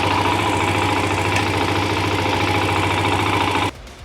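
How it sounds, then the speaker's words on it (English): A KTM dirt bike engine idles loudly and steadily up close, a rough rumbling drone that cuts off abruptly near the end. "that is a lot of noise out of this bike"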